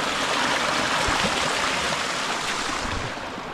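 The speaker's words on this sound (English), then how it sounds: "I can hear running water." Running water of a mountain stream in the Dolomites of Italy rushes steadily and close by, a dense continuous wash with no talking.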